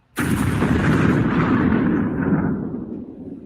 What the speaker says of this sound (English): Explosion in Tehran.